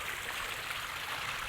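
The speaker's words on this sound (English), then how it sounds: "The water is pouring out to the back" Water pouring steadily over a pondless backyard waterfall, a continuous bright splashing rush that stays even and close for the whole moment.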